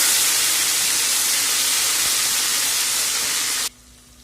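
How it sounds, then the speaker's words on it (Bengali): Ginger garlic paste and two dried red chillies sizzle loudly in hot oil, a steady dense hiss that cuts off abruptly near the end, leaving quiet room tone. "তারপরে দিয়ে দেবো আদা রসুনটাকে আমি ভালো করে ভেজে নেব"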